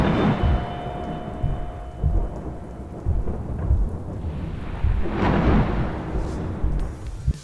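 Thunderstorm in an indie video game scene: constant heavy rain hiss with rolling rumbles of thunder swelling and fading, loud and continuous, no voices.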